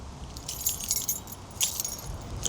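A bunch of keys jangles in a hand, bright metallic chinks in quick irregular bursts over a low rumbling background, close and fairly quiet.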